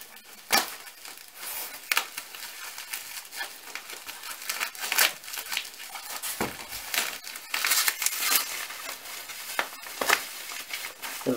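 Packing material around a DSB MY model train being unwrapped by hand, with repeated sharp crinkles, tears and rustles in irregular bursts, close and fairly loud, with no talking.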